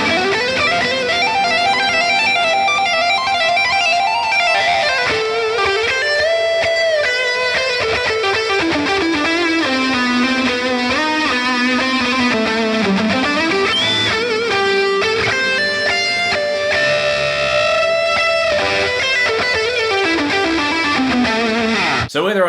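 A black seven-string electric guitar on the neck pickup plays heavily distorted lead lines, with sustained bending notes and fast runs, loud and close, with no voices.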